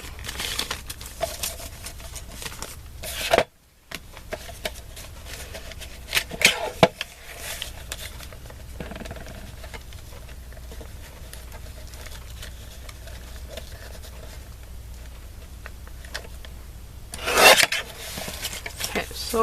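Scissors cut through card pieces for a handmade card, giving a steady rasping, rubbing sound with a few brief crisp snips and one short silent gap partway through.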